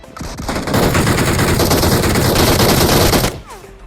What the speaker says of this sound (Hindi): जब ये मेरे ऊपर गोली चला रहा था